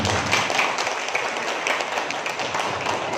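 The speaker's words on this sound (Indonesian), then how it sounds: "Kalau cocok, tepuk tangan untuk kita semuanya" An audience at a school event opening at SMAN 1 Gondang breaks into steady applause, a dense, moderately loud wash of many hands clapping throughout.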